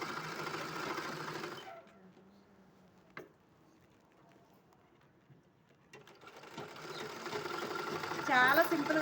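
A sewing machine stitches a pair of pants in loud, close bursts at the start and end, separated by a quiet pause of several seconds in the middle.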